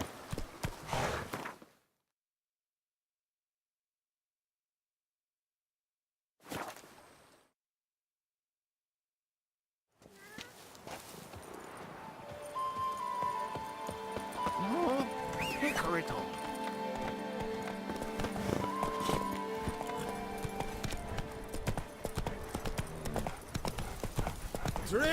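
A horse gallops in The Witcher 3: Blood and Wine. Two brief bursts break up near-silence, then a long stretch of steady hoofbeats runs under game ambience and music, fairly loud and continuous.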